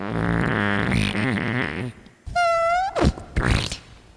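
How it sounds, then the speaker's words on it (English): Recorded novelty fart sounds from a comedy compact disc: a long buzzing, wavering fart followed by a short squeaky one and brief sputters, loud and close. "Finally, all your favorite farts on one compact disc."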